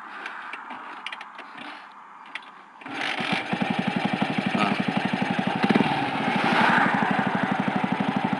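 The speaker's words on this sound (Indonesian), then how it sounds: "Aku cuba start. Susah sikit nak start motor ni." A Yamaha FZ150i motorcycle engine with a Tuneboss setup cranks briefly, then fires at about three seconds and settles into a steady, rapid idle thump close by.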